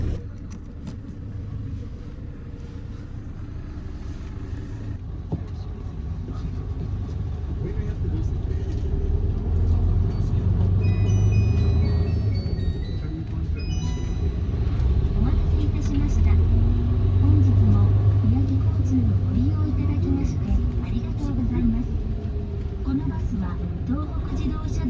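Steady engine rumble and road noise fill the cabin of a highway bus bound for Sendai via the Tohoku Expressway, a continuous low drone with slight swells, while a passenger talks quietly over it.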